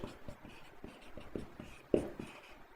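Chalk or marker taps and scratches against a board in short, uneven strokes, quiet and close. One firmer tap lands near the end, with no voice over it.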